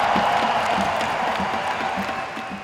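A crowd at a Buffalo Sabres hockey event cheers and applauds for broadcaster Rick Jeanneret, a steady wash of clapping and shouts that fades slightly toward the end, heard alone without talk.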